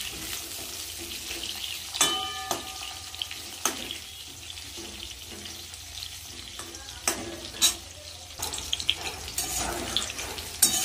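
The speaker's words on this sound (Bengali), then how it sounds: "বেগুনগুলো হালকা লাল লাল করে ভেজে নেব।" Long-sliced eggplant fries in hot oil in a pan, giving a steady low sizzle with scattered sharp crackles and pops, fairly faint and without speech.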